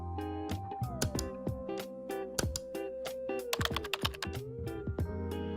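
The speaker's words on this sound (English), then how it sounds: "fix your audio and video just by typing like this" Rapid typing on a computer keyboard, a steady run of crisp key clicks with a few louder strokes, close and clear with no talking.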